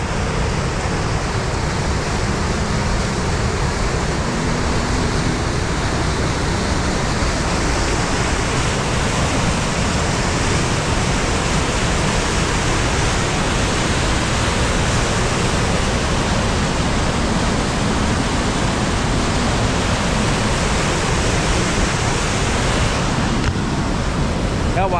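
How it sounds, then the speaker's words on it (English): A raging river rushes steadily for the whole stretch, a loud, dense, unbroken roar of churning water with no pauses. "Water's raging."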